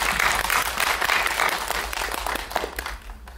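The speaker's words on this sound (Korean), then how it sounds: "큰 박수 부탁드릴게요." An audience at a film screening Q&A bursts into enthusiastic applause, loud at first and gradually thinning out over a few seconds.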